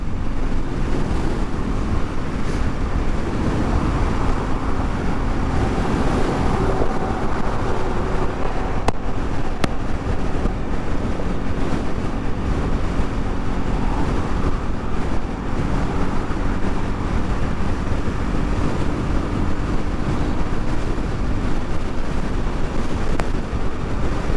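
Steady roaring wind buffets the microphone throughout while riding a motorcycle, a constant low rumble of rushing air at speed.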